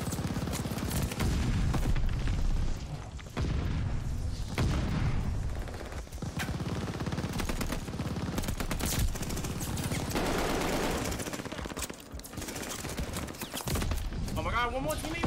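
Rapid automatic gunfire in Call of Duty Vanguard multiplayer, dense bursts of shots and impacts nearly continuous throughout, heard under a player talking.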